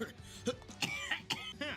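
Vegeta, a video game character, coughs in a rapid series of rough bursts close to the ear, mixed with throat-clearing sounds.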